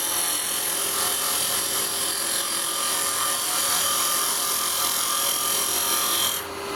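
Steady, continuous hiss of a carbide cutter scraping across a spinning wooden bowl on a lathe, loud and close, with no talking, cutting off abruptly near the end.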